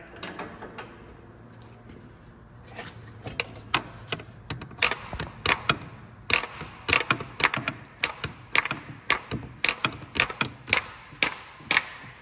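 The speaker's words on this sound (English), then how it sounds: "Might have to give a little tap with the hammer." Sharp metallic hammer taps on an exhaust manifold bolt of a Dodge Ram 1500 5.7L ring out in quick irregular bursts, close and crisp, growing more frequent after a quiet start.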